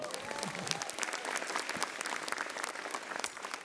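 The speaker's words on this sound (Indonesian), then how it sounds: "Universitas Indonesia, tepuk tangan dong." Comedy show audience applauding at Komika Vaganza, a lively burst of many hands clapping with sharp individual claps standing out, some voices and a brief laugh mixed in.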